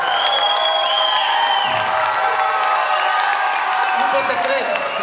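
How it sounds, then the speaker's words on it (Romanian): Applause and cheering from the audience at a high school freshmen's ball, a dense continuous wash of clapping with whoops and shouts over music, loud and sustained throughout. "Să primim aplauze."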